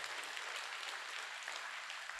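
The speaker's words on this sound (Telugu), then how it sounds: "ఒకసారి గట్టి క్లాప్స్ అండి" An audience at a vegetarian rally in Secunderabad claps hard together, a dense, steady burst of applause filling the whole stretch, loud and close with no voices on top.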